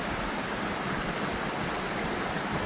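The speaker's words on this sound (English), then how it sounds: "Okay, this is the creek." A small Colorado mountain creek runs steadily nearby, a dense, even rush of flowing water that holds constant throughout with no voices.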